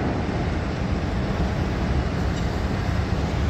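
A Massey Ferguson 245 tractor drives past near a sugar mill, a steady low engine rumble holding at an even level throughout without distinct peaks.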